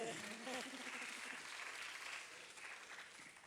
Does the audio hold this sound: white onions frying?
no